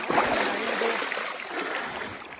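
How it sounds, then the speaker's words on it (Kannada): Rushing river water near Dandeli on the way from Hubli, a steady broadband wash of flowing current heard close and continuous without any talking. "ನೋಡ್ರಿ ಹರಿ ನೀರು,"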